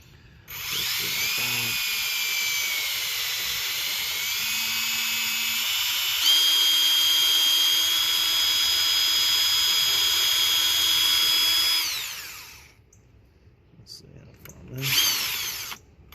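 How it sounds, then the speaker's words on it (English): Close, high-pitched whine of a small electric drill boring a 1/16-inch hole for a sliding screen door track, running steadily for about eleven seconds, its pitch shifting slightly, then stopping before a brief restart. "Drill a 1/16 hole."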